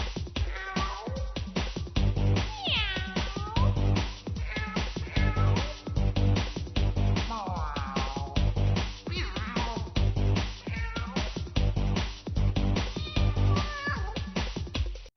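Repeated cat meows are woven into a bouncy, rhythmic menu theme from the Nickelodeon video game Hover Pizza Cats, with stylized yowls rising and falling over a steady beat throughout.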